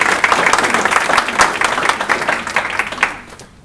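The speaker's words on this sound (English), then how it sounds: "We should give them a round of applause." Brief, lively audience applause at a Boston Fermentation Festival lecture greets farm-workshop hosts, with dense clapping that tapers off after a few seconds.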